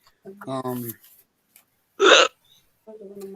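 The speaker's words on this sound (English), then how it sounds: "just hiccups" A single sharp, loud hiccup bursts out on its own in a quiet room, with a person's voice talking briefly before and after it.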